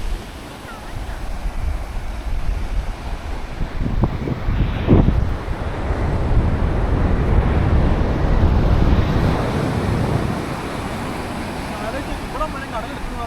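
Sea waves wash up onto Arthunkal Beach, a steady roaring surf with continuous wind buffeting the microphone and a louder surge of water in the middle.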